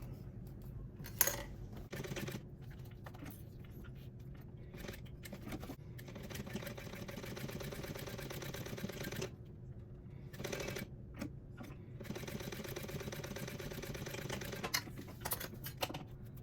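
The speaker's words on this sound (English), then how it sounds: "you're going to want to sew a 1-inch seam allowance going down on both sides" Sewing machine stitching a one-inch seam allowance down the side of a Belladonna purse, a quiet, rapid mechanical whirr in short runs, separated by pauses and small clicks.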